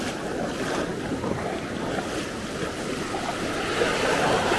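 Ocean surf on the beach at Maspalomas, Gran Canaria, with a sailboat offshore: a steady, continuous wash of waves mixed with heavy wind rumble across the microphone, with no talking.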